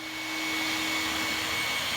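A pool vacuum sucks up leaves from the floor of an empty, freshly painted pool, a loud unbroken whooshing roar with a steady whining hum running through it.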